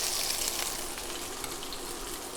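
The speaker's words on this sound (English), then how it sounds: "I just basically finish them by tossing a little bit more butter into the pan" Meatballs sizzling in a pan with a little extra butter, a steady, dense crackle and hiss held evenly close and loud throughout, with no talk over it.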